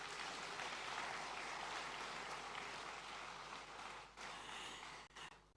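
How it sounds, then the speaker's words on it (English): Sustained applause from a large audience at an inauguration lecture in Abuja's International Conference Centre fills the space, steady and dense, then thins toward the end. "let's hear a resounding Abuja round of applause"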